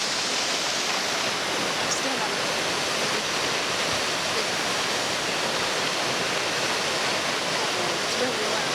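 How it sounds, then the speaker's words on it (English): Loud waterfall roaring as a steady, dense wash of falling water close by, with a brief spoken phrase half buried under it. "We're going to see the waterfall."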